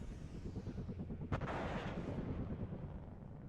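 A TOW missile launched from a Cobra in the Warno strategy game on a volcano map fires once as a sharp, loud blast, then a rushing roar trails off over rumbling battlefield ambience.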